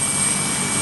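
A Magen David Adom air ambulance helicopter roars steadily, a loud dense broadband engine and rotor wash filling the whole moment with no speech over it.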